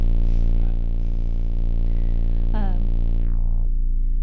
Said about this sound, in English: So again, I'll put in a simple sine wave.